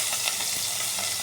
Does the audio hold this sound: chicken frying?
yes